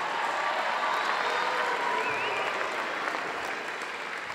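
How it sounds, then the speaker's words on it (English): An awards-ceremony crowd gives the athletes a sustained round of applause, dense even clapping at moderate volume with a few faint cheers mixed in. "How about a great round of applause for all of those athletes?"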